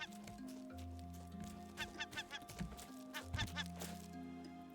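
Bird squawking and flapping as it is killed in the survival video game Raft, short bursts of cries over steady game music and ambient sea tones.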